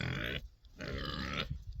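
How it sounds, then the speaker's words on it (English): A white farm pig grunting, two long, loud, rasping grunts close by, separated by a brief pause, with no talking. "we bought 6 white pigs to start with"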